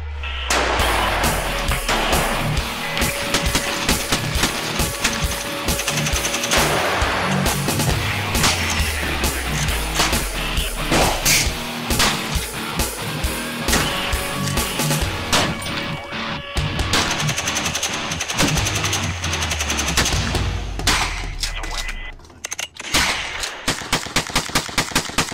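Gunfire rings out at a military shooting club in Germany, with loud repeated shots and rapid bursts, some overlapping, going on almost without a break. The shots sound near, with other firing further off.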